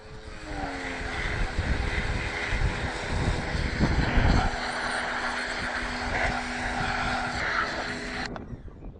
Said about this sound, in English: 250-gallon tank, cheapo pressure washer, and the engine right there.